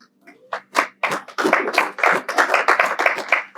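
A church congregation clapping for those who pray an hour, a few scattered claps quickly swelling into dense, close applause that continues steadily.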